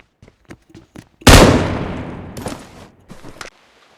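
An M416-style assault rifle fires in BGMI, a mobile battle-royale game, with a few light clicks leading into a loud, sharp burst whose echo decays, followed by several quicker follow-up shots.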